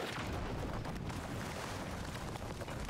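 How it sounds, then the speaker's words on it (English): A bomb exploding in Zelda: Tears of the Kingdom, heard as a dull, rumbling blast that trails into a steady roar of noise, moderately loud and without speech. "And then we use a bomb."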